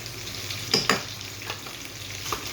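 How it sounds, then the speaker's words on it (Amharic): Shrimp cooking in a pan give a soft, steady sizzle, with a few scraping stirs cutting through near the start and occasionally after. "ሩቢያኔ ዘባት እየበሰለልኝ ነው።"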